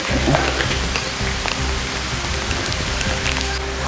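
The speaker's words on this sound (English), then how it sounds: "It's somehow raining and shining at the same time" Steady rain falls outdoors on a golf course during a sun shower, a continuous close patter of drops at even loudness throughout, with no talking.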